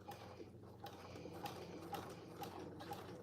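A sewing machine back stitching cargo pants fabric at slow speed, a steady mechanical whir with faint rhythmic clicks about every half second, quiet and close with no talk.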